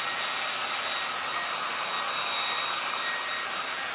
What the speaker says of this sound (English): Spreading the paint is what the dryer is doing.